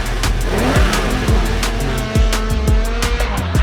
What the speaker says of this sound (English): 2008 Audi R8.